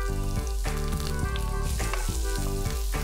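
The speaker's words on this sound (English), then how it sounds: "Once the garlic gets a little sautéed, I'm adding in some slit green chilies." Garlic, slit green chilies and julienned ginger sizzle and fry in a hot pan, a steady close crackling hiss with stirring scrapes, no voices.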